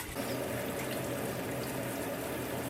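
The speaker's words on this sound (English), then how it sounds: "gonna fill up my water bottle because water is very important right now" Steady, close rush of tap water pouring into a water bottle, a continuous broadband hiss that holds evenly for under three seconds with no voices.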